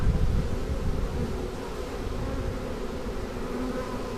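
A honeybee swarm being captured outdoors in the Pacific Northwest near Bellingham, Washington, produces a dense, steady buzz of many bees, close and continuous with a slight swell at the start, no speech.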